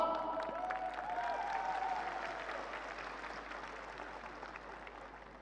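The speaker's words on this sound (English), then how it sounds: "Applause!" An audience at a global business event applauds in a dense, continuous wash of clapping that slowly fades, with a faint voice briefly audible early on.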